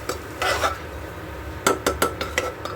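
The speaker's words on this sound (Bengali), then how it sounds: "এবার ডাল দিয়েও কিন্তু ভালো করে ভাজতে হবে ব্যাপারটাকে" A spatula scrapes and clinks against a pan while three kinds of lentils fry and are stirred, with short bursts of stirring and metallic taps close by and a low background hum.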